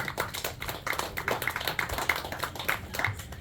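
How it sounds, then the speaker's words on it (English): A crowd applauds an angler at a bass fishing tournament weigh-in at a marina on Bull Shoals Lake; the brisk, dense clapping runs steadily for a few seconds at moderate distance. "Round of applause there for Miss Jen Nolan"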